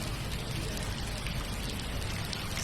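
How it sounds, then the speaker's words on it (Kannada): Heavy rain with strong wind in Bengaluru, a dense, continuous roar of large drops pounding surfaces, loud and unbroken for a few seconds, with no speech. "ಸಾಕಷ್ಟು ಗಾಳಿ ಬೀಸ್ತು, ಜೊತೆಗೆ ದಪ್ಪ ದಪ್ಪ ಹನಿಗಳು ಮಳೆ ಬಿತ್ತು."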